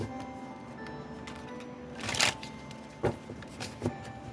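A deck of tarot cards is shuffled by hand: a few crisp riffling bursts, the first longer and louder, followed by two or three shorter flicks over soft room noise, with no talking.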